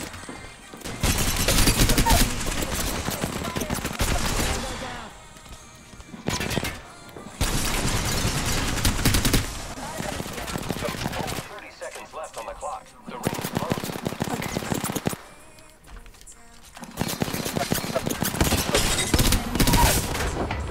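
Bursts of automatic weapon fire from other players in Apex Legends come in several long volleys separated by brief lulls, fairly loud and rattling, with occasional faint talk in the gaps.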